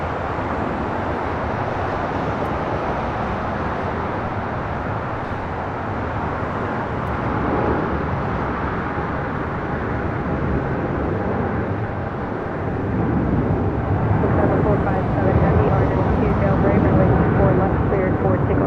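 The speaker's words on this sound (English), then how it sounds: "This is Air France Flight 65 taking off to Paris on a 777-300ER." An Air France Boeing 777-300ER jet takes off on its departure to Paris, a loud, steady broadband engine roar that swells toward the end, with faint talk underneath.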